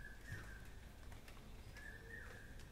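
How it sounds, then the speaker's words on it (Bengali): Birds call outside on a foggy early morning in North Bengal around dawn; faint, distant cooing and soft chirps drift over quiet background hiss. "আর পাখিদের কলরব"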